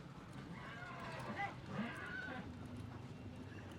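A horse brought to the Pushkar fair moves at a walk, its hooves sounding soft and faint against a steady wash of crowd and outdoor noise.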